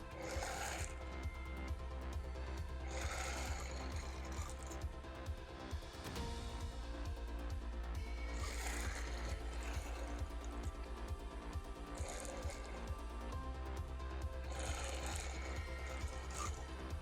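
A sewing machine stitching an orange peel quilt with appliqued crescents hums in a steady mechanical whir, with rhythmic bursts of needle clatter recurring every few seconds, quiet and close, no voices.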